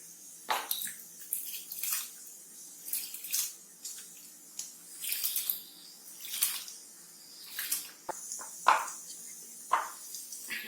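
Rice grains are poured into a pot of hot water on high flame, giving a series of soft splashing, rustling bursts that repeat every second or so, close and fairly quiet, with no talk.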